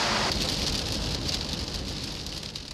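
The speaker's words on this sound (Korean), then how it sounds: "비는 하루 종일 내릴 기세다" Steady rain falls on a day of heavy downpour while a bodyguard team travels to Gyeongbokgung Palace in Seoul, a constant dense hiss of drops on surfaces close by with no voices.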